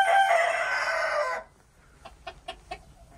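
Bantam cochin rooster crowing once, loud and close, with the crow ending abruptly, followed by a few faint short clucks.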